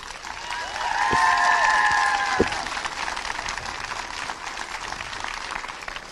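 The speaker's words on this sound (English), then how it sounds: "Just cheer for Down, please." A crowd at a minor football All-Ireland final claps and cheers for Down, the applause swelling early and then thinning into a steady patter, with a couple of sharp knocks and a horn-like tone sounding briefly.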